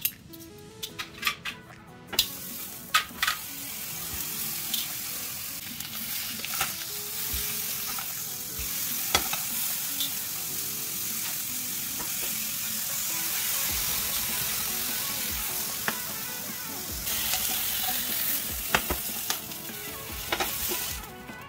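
Chicken suprêmes searing in a dry pan with no fat, a lively close crackling sizzle with occasional clatters and stirring scrapes, continuous throughout.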